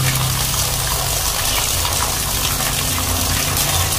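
Water gushes steadily from a small pipe fitted off a washbasin, a continuous loud splashing flow close by with no pause and no voices.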